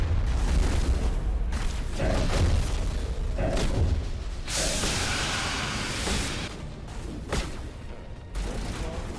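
Grenade blast in the Mass Effect video game amid sustained gunfire and combat noise, with a loud burst of explosion texture partway through over a dense, continuous battle backdrop.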